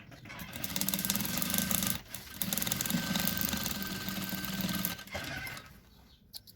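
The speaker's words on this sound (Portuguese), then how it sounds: "Eu coloco a manta embaixo do painel e passo uma costura pra juntar todo mundo aqui." Sewing machine stitching a fabric panel to padding for a small zippered toiletry bag, a steady rapid mechanical whir running near and loud with brief pauses, then slowing and fading out near the end.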